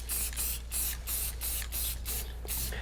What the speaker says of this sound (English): If you spray it on too heavy, it will bleed on you.